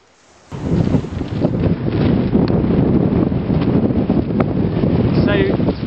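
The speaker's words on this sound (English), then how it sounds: "The wind's nice, the kite's all set up." Wind gusts across the mic at an open kite-flying spot, starting abruptly as a loud, steady roar and buffeting that carries through to the end.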